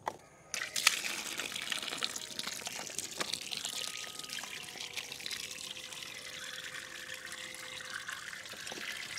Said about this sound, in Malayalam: ഇത്രയും നിരക്കെ നമുക്ക് വെള്ളം ഒഴിച്ചു കൊടുക്കാം